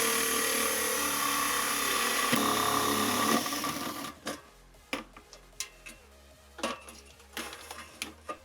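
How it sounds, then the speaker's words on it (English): A step bit drilling holes through a metal tank for a hot water urn project, heard as a steady, loud grinding whine for about four seconds, then a series of sharp metallic clanks and taps as the work is handled. "finally we'll drill the holes using a step bit"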